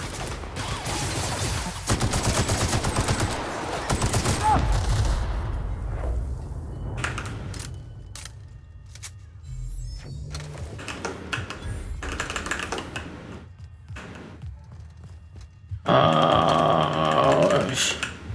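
Weapon fire in the video game The Outer Worlds comes as clusters of sharp, rapid shots and bursts that start and stop over a busy game soundscape, ending in a louder, denser passage. No one speaks.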